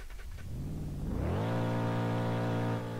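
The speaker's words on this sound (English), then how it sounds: "listen at the rev limiter." A BeamNG.drive video game truck engine revs up quickly and holds at a high, steady buzzing pitch, bouncing against its limiter, loud and continuous with no talk.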